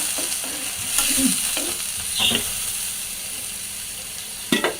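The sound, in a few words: fish with potato and beans braising in pan after adding water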